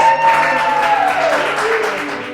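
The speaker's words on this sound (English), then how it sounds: "Clap it up for them, please." Applause from a small audience at a cooking competition, steady clapping that fades slightly toward the end, fairly close and moderately loud.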